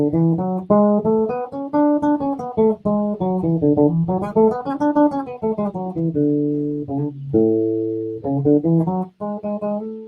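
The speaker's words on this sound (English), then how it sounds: "So Lydian would be the major sounding scale that sounds weird on the bottom." A bright synthetic tone plays a D Lydian scale as single notes stepping up and down, clean and close, with no voices.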